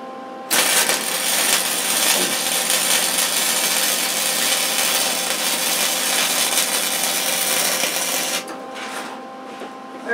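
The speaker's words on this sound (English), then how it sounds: "just weld the bejesus right out of her" Welder running a bead around the base of a steel solar panel tower pole, a loud, continuous crackling hiss held steady for about eight seconds before cutting off abruptly, with no talking.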